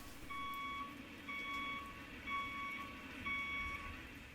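Four evenly spaced, shrill electronic beeps sound at a steady interval, like a truck's reversing alarm, over a soft background hiss.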